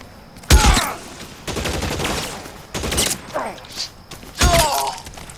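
Gunfire crackles in the video game L.A. Noire, with several loud sharp shot bursts and thuds at irregular intervals amid game ambience and some shouted voices.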